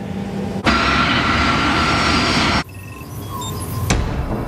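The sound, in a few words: airliner approaching Zurich Airport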